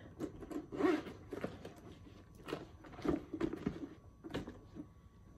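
A Marc Jacobs tote bag zipper is pulled in several short, close scratchy bursts, separated by brief pauses and small handling noises.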